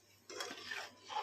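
Arbi sabji being stirred in a cooking pot, with quiet scraping and soft clinks of a spoon against metal in a brief, close, low-level sound and no talk.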